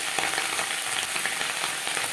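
Onion stalks frying in a pan over a high-to-medium flame give a dense, even sizzle with light crackles and stirring scrapes, close and continuous, with no voices.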